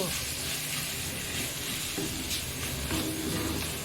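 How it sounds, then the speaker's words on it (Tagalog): Miso sautés in a pan for sinigang sa miso with a soft, steady hiss and light sizzle, fairly quiet and close, with a few faint clinks. "Gigisa natin ang miso"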